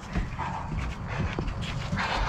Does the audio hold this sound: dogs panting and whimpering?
yes